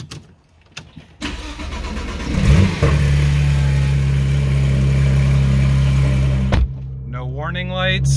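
A Porsche GT3 cold-starts with a crank and flare around the three-second mark, then settles into a loud, steady high idle that holds close to the microphone, ending with a sudden cutoff and a brief electronic chime.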